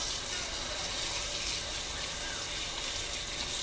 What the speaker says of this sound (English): I'm going to wash it with warm water, very warm water.